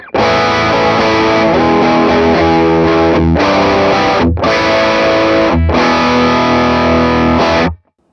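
Overdriven electric guitar through the Morgan Amps Suite pedal, level and drive set at noon, playing a loud, continuous crunchy riff with two brief gaps, heard alone before stopping near the end.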